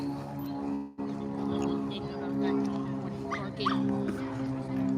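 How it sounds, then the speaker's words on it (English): A dog yips and whimpers amid a busy arcade-restaurant crowd, its short high cries rising briefly over steady machine tones and background chatter. "I don't know what kind of dog that is."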